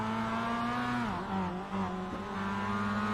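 Mazda MX-5 Cup race car in iRacing at Long Beach, its engine droning steadily and then sputtering and stumbling in pitch as it runs out of fuel, held close and continuous.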